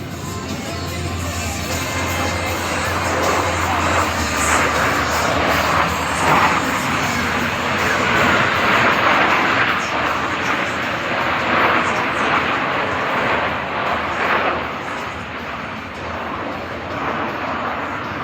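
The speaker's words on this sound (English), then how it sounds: "From the right, the Blue Angel Diamond." US Navy Blue Angels jets passing in four-aircraft diamond formation at an air force base show: a loud, sustained broadband jet roar that swells and fades gradually as the formation flies by.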